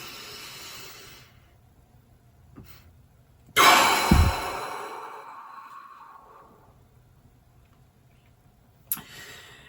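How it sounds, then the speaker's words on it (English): During a breathing exercise, one loud, deep exhale bursts out close to the microphone and then fades slowly, with quiet stillness before and after and a faint click near the end. "it's breathing in, getting to the top, taking a tiny bit more breath, and letting it all out"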